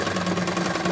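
A sewing machine stitches a cloth face mask with a fast, steady mechanical whir and needle chatter, close and continuous for about a second.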